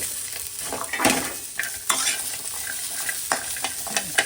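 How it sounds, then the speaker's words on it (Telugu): Green chillies fry gently on a low flame in a pan, with a spoon stirring and scraping in irregular strokes over a soft, steady sizzle. The sound is close, with no voices. "పచ్చిమిర్చి లైట్గా సిమ్లో పెట్టి ఫ్రై చేసుకోవాలి"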